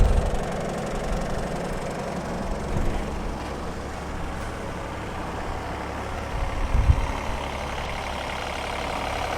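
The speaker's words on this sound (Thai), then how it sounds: "นี่เสียงเครื่องรอบเดินเบานะครับ" A Hitachi ZX35U-3 mini excavator diesel engine idles steadily at low revs, a close, even rumble with a couple of brief louder knocks, no voices.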